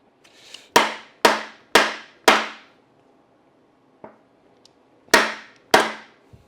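A hammer strikes a stubborn transmission part on a 1964 Triumph TR4, giving four sharp metallic blows in quick succession, a lighter tap, then two more hard hits, loud and close in a quiet garage.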